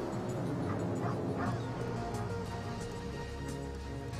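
A rescue dog in the firefighting game Emergency 3 gives several short, fairly faint yips and barks over a steady background hum of game ambience, with no talk.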